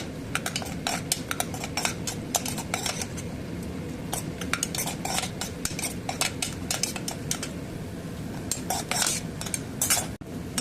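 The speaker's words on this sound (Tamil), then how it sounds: "நெய்யில் வந்து தேங்காய் முந்திரி நல்லா வறுத்துட்டு பாருங்க" Coconut and cashews roasting in ghee for wheat rava kesari, stirred briskly in a metal pan: a rapid stream of spoon clinks and scrapes over a low frying hiss, close and busy.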